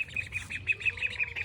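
Young duck chicks on a farm calling: a rapid run of high, repeated peeping squawks close by, coming in a quick steady rhythm with no talking.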